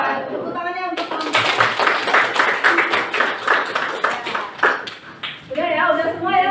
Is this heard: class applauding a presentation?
yes